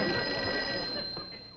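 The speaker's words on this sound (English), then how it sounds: "Sounds like the phone's ringing." A telephone bell rings in a continuous, bright, fairly loud trill that tapers slightly toward the end, heard on its own without talk.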